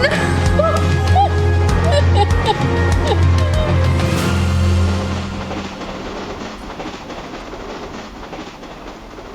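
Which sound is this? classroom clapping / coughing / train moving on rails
train moving on rails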